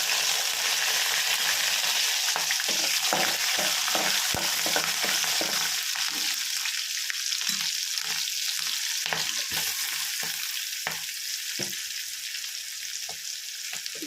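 Urad dal and green chilies frying in a pan for chow chow bath, a continuous loud sizzle dotted with sharp crackling pops throughout.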